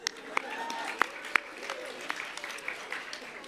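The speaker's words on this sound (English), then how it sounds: "So big round of applause there to Alex" Modest applause for a Lib Dem speaker at a volunteering awards event, light and fairly distant, with a few sharp individual claps standing out and voices talking over it.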